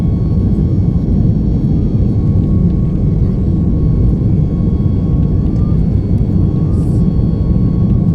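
A steady, loud jet airliner cabin roar drones on without change as the plane climbs into clouds at about 35,000 feet, a broad low rumble with a faint hum above it.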